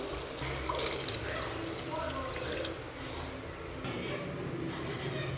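Water pours steadily into a pot for cooking eggplant biryani, a continuous splashing rush close by at a moderate level.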